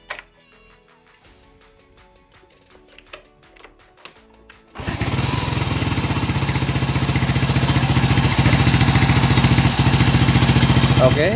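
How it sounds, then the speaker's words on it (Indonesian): A few quiet clicks and rattles, then an older Honda Supra X motorcycle fitted with a Supra X 125 carburetor starts and runs at a steady, loud, rapid idle thrum. "Kita hidupin mesin dulu ya."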